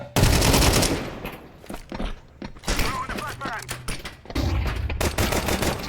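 Gunfire in Counter-Strike 2, sharp repeated shots in short bursts and single taps, loud and close, with players talking over and between the shots.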